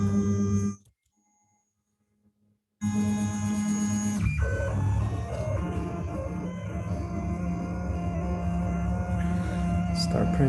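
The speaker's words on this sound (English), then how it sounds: "Start printing." A DIY ceramic 3D printer extruding clay starts up after a brief silence, then runs with steady motor whines and shifting stepper tones, close by, with some speech mixed in.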